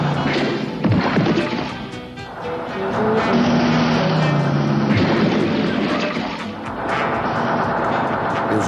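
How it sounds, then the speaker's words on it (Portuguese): A truck barrels down a road with a loud, continuous engine roar and heavy thumping impacts, ending in a crash of smashing and thudding sounds that stay dense and loud throughout the scene. "Aí vem um caminhão."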